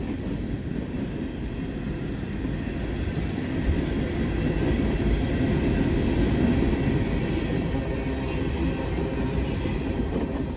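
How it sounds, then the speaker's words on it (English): Freight train E895 of empty coal hoppers from Newport News, Virginia to Princeton, Indiana rolls past in a steady, loud rumble of wheels and cars, continuous throughout with no voices. "E895, empty coal hoppers from Newport News, Virginia, back to Princeton, Indiana"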